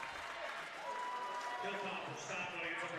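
Spectators at a girls high school basketball state quarterfinal in an arena give soft, sustained applause that sounds distant, running under steady commentary.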